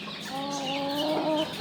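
A native hen that lays eggs in a netted poultry enclosure clucks in one short, continuous, nasal run close by, with no talk.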